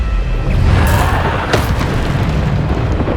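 A Bombarda blasting spell explodes in the Hogwarts Legacy video game, a loud, booming burst with a crackling roar that carries on through the short clip, alongside a couple of sharp hits.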